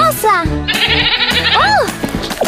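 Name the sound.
goat bleating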